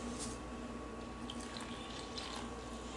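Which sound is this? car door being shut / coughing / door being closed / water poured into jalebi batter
water poured into jalebi batter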